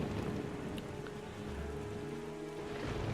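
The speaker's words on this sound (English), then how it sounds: "it's still the dead of night and still raining cats and dogs" Steady rain hissing throughout at a moderate level, with a low rumble underneath and no voices, at night in The Legend of Zelda: The Wind Waker.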